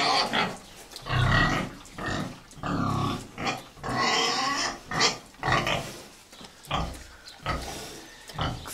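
A sow grunts and snorts repeatedly while eating in a barn, close and loud, with rhythmic bursts of feeding noise.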